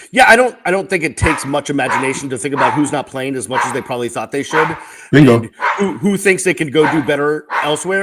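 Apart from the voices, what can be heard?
two dogs barking while fighting over a toy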